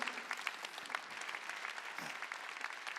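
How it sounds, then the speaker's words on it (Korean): Audience in a church clapping during a Christmas Sunday worship service, a dense, steady round of applause that holds for about three seconds with no talk over it. "박수야."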